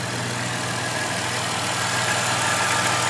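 A 2010 Dodge Grand Caravan with a 3.3 liter V6 idles steadily, a close, even engine hum with a low rumble and faint ticking, constant throughout with no voices.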